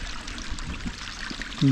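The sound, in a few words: water trickling from a dam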